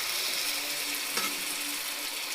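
Spice masala being sautéed in a pan, a dense, even sizzling hiss with one faint stir or scrape, close and steady with no one speaking.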